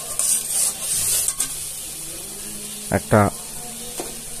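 A spice paste for hilsa fish sautés in a pan with a soft sizzle and hiss, loudest early on; a brief voice cuts in near the end.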